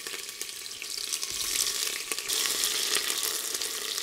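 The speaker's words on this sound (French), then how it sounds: "Les oignons, je les laisse mijoter 2-3 minutes à peu près avant de rajouter les autres ingrédients." Chopped onions frying in a pan for Tunisian couscous give off a steady, crackling sizzle close by, with occasional stirring scrapes.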